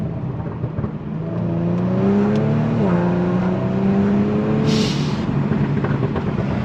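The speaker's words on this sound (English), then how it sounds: "the pop and bangs though, they really make the car extra loud" A Kia Stinger with a catless exhaust revs up and holds a rising, whirring engine note. The pitch climbs in steps, with a brief crackle near the end before it settles.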